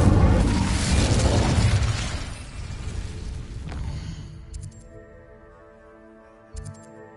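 An Incendio fire spell cast in Hogwarts Legacy erupts in a loud, roaring burst of flame that slowly fades into a quiet tonal hum, with a small sharp pop near the end.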